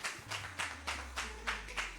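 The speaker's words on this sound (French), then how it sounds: "on applaudit Adrien." An audience at a singing competition results ceremony applauds the singer with a few loud, rhythmic hand claps at a steady pace, alone without talk.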